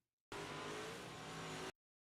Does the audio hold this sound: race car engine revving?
yes